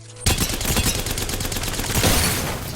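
A Havoc or Vault gun fires in Apex Legends as a loud, rapid, sustained burst of automatic fire. It begins abruptly after a brief quiet moment and continues steadily to the end.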